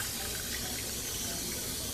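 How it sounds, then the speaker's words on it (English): Cold tap water runs steadily into a pot of cooked rice as it is rinsed and cooled, a continuous close splashing rush with no talk. "when I put it here, I rinse it with the cold water"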